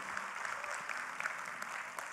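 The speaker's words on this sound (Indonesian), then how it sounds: "Kalau boleh tepuk tangan buat kita yang rajin ini semua." An audience at a talk gives a short burst of even applause, a faint, distant patter of clapping.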